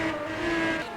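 Race cars roar in a racing video game, a steady, dense engine drone with a sustained tonal whine, loud and unbroken over the brief moment.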